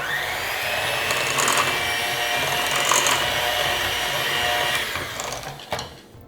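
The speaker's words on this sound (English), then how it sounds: "And then give this a good mix." Electric mixer beating banana bread batter with vanilla extract and eggs, a steady close whirring drone with brief bumps against the bowl, then it cuts off.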